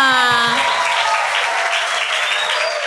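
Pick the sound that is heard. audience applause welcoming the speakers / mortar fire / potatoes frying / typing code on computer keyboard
audience applause welcoming the speakers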